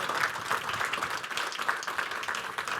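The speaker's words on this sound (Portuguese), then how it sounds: "Um aplauso para todos." An audience applauds at an awards ceremony in Porto, a dense steady wash of clapping held at a moderate level throughout, with no single clapper standing out.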